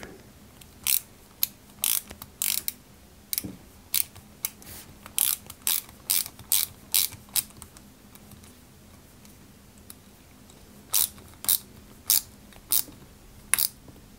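A large greased GM screw being driven into a 1/8-scale Citroen 2CV AZLP model kit gives a series of sharp, close ratcheting clicks in uneven bursts, with pauses between groups.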